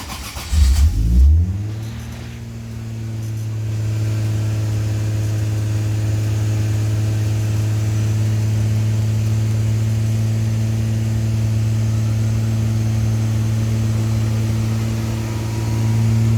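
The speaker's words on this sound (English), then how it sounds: "let's start her up and see how it sounds with the car running" A 1977 Toyota Celica RA28 engine cranks and catches, then settles into a steady, loud idle hum that runs unbroken for the rest of the clip.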